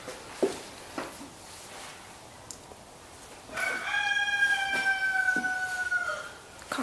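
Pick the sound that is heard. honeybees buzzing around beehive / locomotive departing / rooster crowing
rooster crowing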